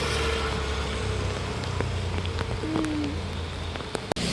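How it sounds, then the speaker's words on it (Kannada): Heavy rain falls in a steady, dense hiss that fills the scene from start to end, with a few faint taps and a low background rumble. "ಮಳೆ ಬಂತು, ತುಂಬ ಬಂತು."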